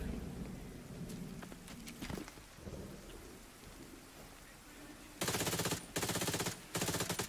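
Bursts of automatic weapon fire in The Division 2 ring out as three loud, sustained volleys near the end, following a stretch of quieter scattered pops and ambient rumble.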